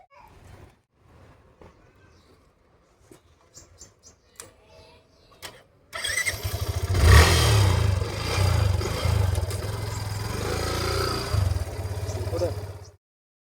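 A motorcycle engine rumbles loudly and steadily up close for the second half, after a quiet stretch of scattered clicks and handling noises.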